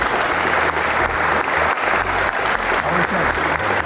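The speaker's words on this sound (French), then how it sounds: "On applaudit la quatrième position" Audience applause at a French belly-flop diving contest, a sustained wash of clapping from a crowd greeting a finalist, steady and fairly loud, with a voice speaking faintly beneath it.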